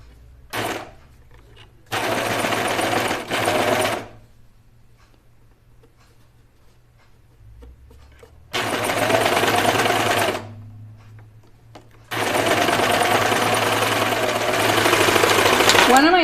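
A serger stitches layers of knit fabric for a Lucida dress with no pins, running in three loud, steady bursts of a few seconds each, separated by quiet pauses.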